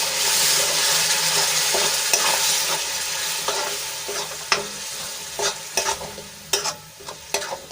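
Tomato puree stirred into cabbage cooking in a pan, a steady loud sizzle with repeated scraping and clinking spoon strokes growing more frequent toward the end, no voices.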